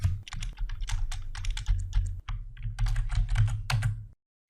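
Rapid, uneven typing on a computer keyboard while entering an axis title in an Excel 2016 chart, a close, steady patter of key clicks with brief pauses, ending abruptly in silence.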